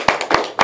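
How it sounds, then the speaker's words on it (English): A few sharp, separate hand claps ring out in a small room at an evening book event, three distinct close smacks with short gaps between them. "Let's give a quick round of applause to Dust because they are letting us do this."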